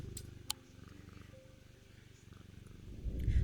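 Cat purring in a video game, a steady low rumbling purr running throughout, swelling louder near the end, with faint game sounds in the background.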